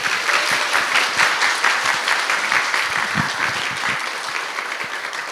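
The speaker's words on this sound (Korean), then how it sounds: "우리 나오실 때에 환영하는 박수로 크게 맞이하겠습니다." A church congregation gives welcoming applause for a visiting seminary professor at a Sunday morning service, loud, dense clapping that stays strong and slowly tapers toward the end, with no voices over it.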